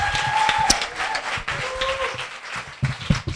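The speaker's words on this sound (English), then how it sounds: "Now, round of applause." An audience at a leadership talk event applauds as the next speaker is introduced, a moderate scattering of claps with a few louder individual hits and some faint background voices.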